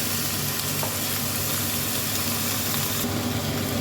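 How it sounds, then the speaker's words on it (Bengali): Washed broken Gobindobhog rice fried and stirred with browned onions in a pan, giving a loud, continuous close sizzle with faint stirring scrapes throughout and no talking. "খুব ভালো করে কিন্তু একটু পেঁয়াজের সাথে নাড়াচাড়া করে একটু ভেজে নিতে হবে"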